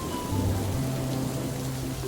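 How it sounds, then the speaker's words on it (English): Soft, steady rain hiss for a cartoon scene, with quiet tonal music lines running faintly underneath. "It looks like it's going to rain today, and Peppa has her umbrella ready."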